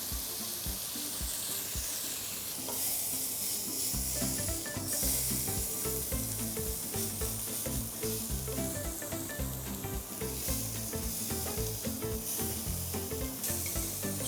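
Pieces of boar meat frying in a little oil in a pan, a loud continuous sizzle and crackle with stirring and scraping sounds throughout, steady and close, with no talk.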